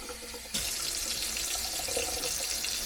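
Hot water runs steadily from a tap into a sink for washing up, starting abruptly and then continuing as a constant broadband splashing rush, close and loud, with no talk.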